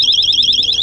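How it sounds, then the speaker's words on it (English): A store security alarm sounds in a sneaker and cleats aisle, a steady loud electronic warble pulsing rapidly and continuously without a break. "There goes the alarm."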